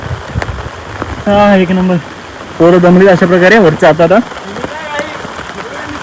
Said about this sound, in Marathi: आणि आता पावसाने सुरुवात केली.